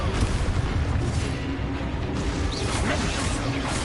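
The Expulso explosion spell in Hogwarts Legacy bursts with a heavy booming crash, a dense rumbling blast that sustains for a few seconds amid layered game effects and a voice in the background.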